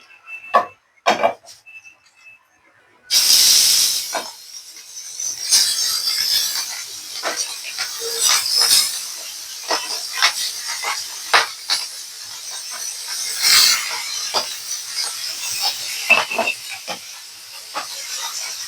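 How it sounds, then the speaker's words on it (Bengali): Tangra fish seasoned with salt and pepper fry in hot oil, starting with a few clatters then a loud, close, continuous sizzling hiss with scattered crackles and pops throughout. "এই দুইটা দিয়ে এখন ট্যাংরা মাছ ভাজা হবে।"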